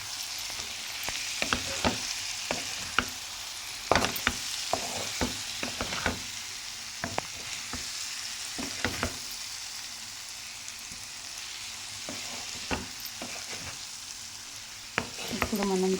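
Egg and capsicum fry in a pan while being stirred, a soft continuous sizzle broken by repeated sharp scraping clinks of a spatula against the pan at close range.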